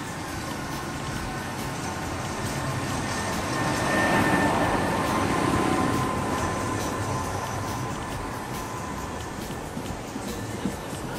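Steady rumble of a train running along the tracks from Monaco to Cannes, a broad continuous drone that swells slightly in the middle, with no voices.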